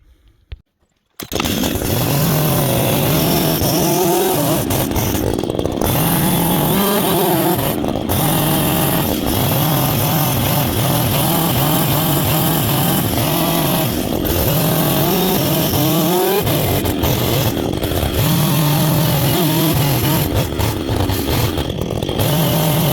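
A chainsaw starts up and runs loud and close, revving and bogging steadily as it cuts a notch section out of a timber truss chord, with brief dips between cuts.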